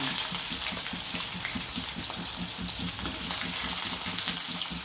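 Chopped onions and green chilies fry with cumin seeds in hot oil, a loud, steady sizzle with a soft rhythmic stirring pulse underneath, close up and with no talk.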